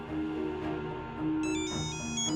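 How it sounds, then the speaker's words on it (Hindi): A phone ringtone plays a repeating electronic melody of bright tones, moderately loud over a faint background hum. "दीदू को बार बार कॉल आ रहा है"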